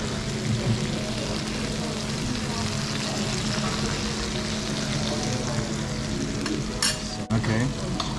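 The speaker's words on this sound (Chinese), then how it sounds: "烤鱼上来了，这上面还在滋滋的冒油啊" Grilled fish sizzles steadily in oil at a restaurant table, a close, continuous crackle with faint background chatter.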